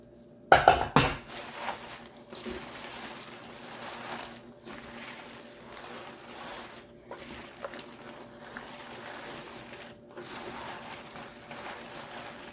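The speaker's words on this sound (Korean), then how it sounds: "이게 이제 뭐 순서 상관없이 이제 같이 넣어서 양념을 버무리면 되겠습니다." Kimchi seasoning with glutinous rice paste and sea string being mixed in a bowl: a loud clatter at the start, then soft wet stirring and scraping with scattered light knocks, fairly quiet throughout.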